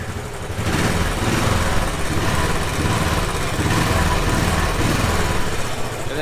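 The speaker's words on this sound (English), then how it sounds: "We'll just give it a little rev." Royal Enfield Classic 500 motorcycle on its stock exhaust, engine running steady and close, a low thumping drone that swells slightly with light revs and holds level throughout.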